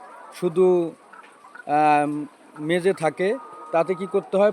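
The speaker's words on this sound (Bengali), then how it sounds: "দেখেন লেয়ার মুরগি।" Layer hens on a poultry farm give loud, close clucks and squawks in short repeated bursts while someone talks over them.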